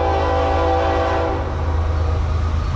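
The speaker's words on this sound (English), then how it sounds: "Norfolk Southern, hammered down eastbound," A Norfolk Southern freight train runs eastbound at full speed on track 2, a loud, steady roar of locomotives and rolling cars close by with a horn tone near the start.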